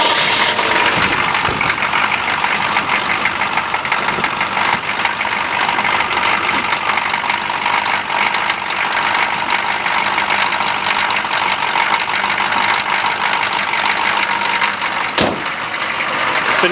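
A GM 6.2 diesel in a K5 idles steadily after a cold start, a loud, continuous clattering rumble that runs the whole time with no talk over it.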